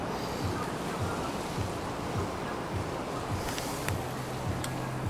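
Sea waves at a Roatan island beach resort in Honduras rush steadily, heard from a balcony. The surf forms a continuous loud wash with wind buffeting the microphone and faint rhythmic pulses beneath.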